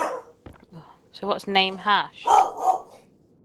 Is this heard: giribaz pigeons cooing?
no